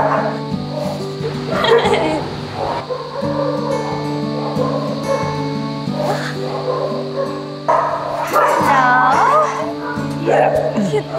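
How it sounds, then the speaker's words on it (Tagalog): Several dogs at an animal shelter barking and yipping close by in repeated bursts, with some whimpering and people talking over and between the barks. "kapakita ko muna sa inyo yung mga dogs namin dito sa shelter"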